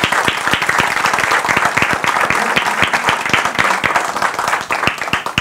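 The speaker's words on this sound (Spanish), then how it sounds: "Yo quiero que les demos un gran aplauso a ellos" An audience claps loudly at a church-style gathering, with sharp individual claps standing out close by over the continuous applause and no voices.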